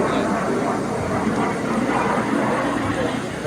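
An L-39 Albatros jet flies a barrel roll at an air show, its engine making a loud, broad, steady roar throughout while people talk over it.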